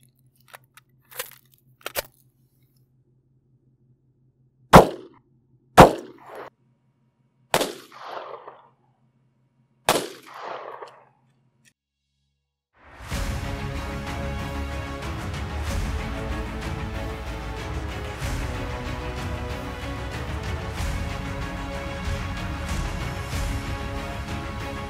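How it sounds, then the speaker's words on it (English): Six sharp reports ring out one by one, with pauses between them, as 9mm Super Vel 115gr subsonic SCHP rounds are fired into a gel block covered with four layers of denim. A steady, noisy hum follows afterward. "So let's flip this block around, take a couple more shots with four layers of denim."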